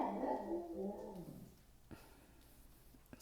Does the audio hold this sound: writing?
no